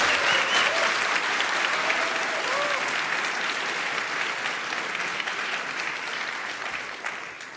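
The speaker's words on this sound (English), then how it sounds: "Please give them a warm welcome applause." A conference audience welcomes the next speakers with sustained, dense clapping that fills the room, holding steady before gradually thinning toward the end, with no talk over it.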